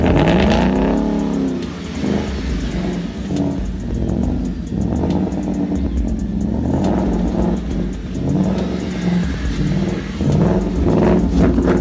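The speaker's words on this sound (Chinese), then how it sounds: "要开着这辆野马跑车去草坪上漂移" A damaged Ford Mustang GT sports car drifting on a lawn, its engine loudly revving and sweeping up and down in pitch with repeated bursts of acceleration, close and continuous without speech.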